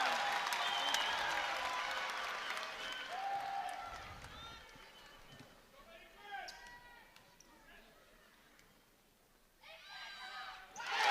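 Home crowd at a Montana vs Montana State college basketball game roars and applauds after a made free throw, loud sustained cheering that fades then swells again at the end, with a commentator talking over it.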